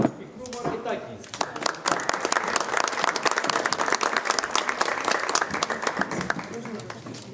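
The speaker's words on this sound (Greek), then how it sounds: "ένα θερμό χειροκρότημα για την είσοδο της αγαπημένης του Λίδας Πικρού Μαρκετάκη." An audience at a memorial event on Syros gives warm, sustained applause, dense steady clapping from a crowd that builds quickly and keeps going, with some voices underneath.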